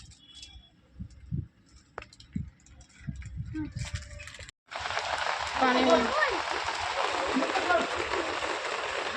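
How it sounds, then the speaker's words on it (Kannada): Heavy Saturday rain pours down in a steady, dense hiss that starts suddenly midway and continues loudly to the end, following quieter household sounds with a voice speaking earlier. "ಸೊ ಫುಲ್ಲಾಗಿ ಮಳೆ ಬರ್ತಾ ಇದೆ"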